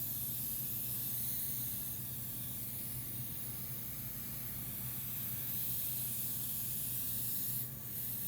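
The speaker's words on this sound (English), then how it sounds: "Spray all the remaining residue before you switch on to another bottle." A facial sprayer with a cryogenic activator fires a steady, continuous hiss of spray as it empties the remaining residue from the bottle, close and unbroken for several seconds with a slight change near the end.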